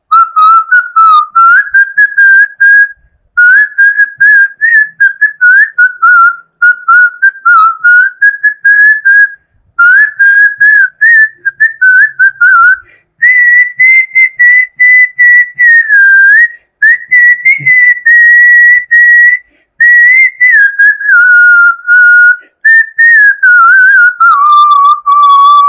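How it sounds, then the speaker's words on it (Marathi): A person whistling a song, a clear, loud, melodic tune carried for nearly half a minute in continuous phrases with short breath pauses, sliding between notes, alone with no talk. "मी शिट्टीतून गाणं म्हणून दाखवणार"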